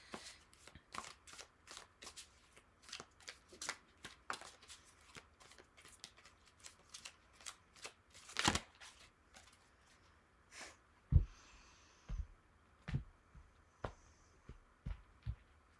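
Tarot cards are shuffled by hand in a quiet room, a series of soft, close riffling and tapping bursts at an irregular rhythm, with one louder slap near the middle.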